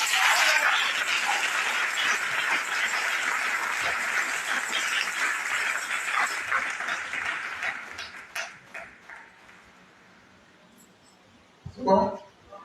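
A church congregation breaks into loud, sustained applause that fills the room, then thins out and fades to scattered claps and near-quiet, with a brief knock or bump near the end.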